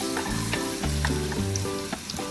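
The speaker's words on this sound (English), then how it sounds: "Sizzling so nice" Vidalia onions sizzle and crackle in hot oil up close, a steady frying hiss with occasional scraping and clinking as they are stirred.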